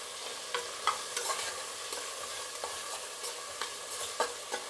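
Onions fry gently in a pan with a soft, fairly quiet sizzle, overlaid by light, irregular scrapes and taps of stirring.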